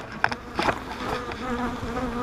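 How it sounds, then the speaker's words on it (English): Honey bees buzzing close by around beehive boxes while honey supers are pulled, several overlapping drones with individual bees passing near, steady and moderately loud with no voices. "There are a few bees in here."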